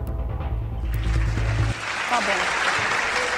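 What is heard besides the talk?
applause sound effect played from a button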